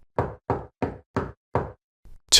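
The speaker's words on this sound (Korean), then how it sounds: "삐걱이는 낡은 울타리 문을 두드리는 소리" Five firm knocks in a steady rhythm rap on an old creaky wooden fence gate at night, each crisp and close, followed after a pause by a faint thud and a brighter final strike.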